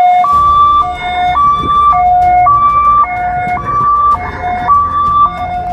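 An ambulance siren from an ambulance service advert in Durgapur wails in a loud, steady two-tone pattern, stepping evenly between a lower and a higher pitch roughly every half second, heard alone with no talking.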